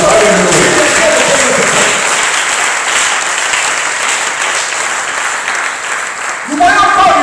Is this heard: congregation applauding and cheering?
yes